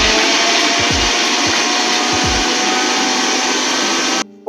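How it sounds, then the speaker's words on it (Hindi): A kitchen mixer grinder blends ingredients into a paste, its loud, steady motor roar running without a break before cutting off abruptly near the end. "I have my mixer ready. तो इसको हम ग्राइंड करेंगे एज अ पेस्ट।"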